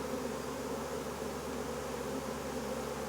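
Rescued bees, brought in from a bee removal, buzz steadily and densely around a hive, a continuous close droning swarm with no voices.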